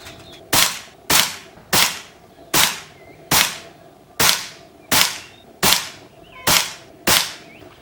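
An Air Venturi Nova Vista air rifle fires H&N Baracuda 15 grain pellets in a steady series of about eleven sharp, close cracks, each about 0.7 seconds apart with a short decaying tail, and no voices between shots.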